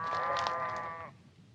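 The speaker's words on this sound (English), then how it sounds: "Can't even make friends with sheep." A single sheep bleats in open Nevada desert country, a clear wavering cry lasting about a second before fading into quiet outdoor ambience.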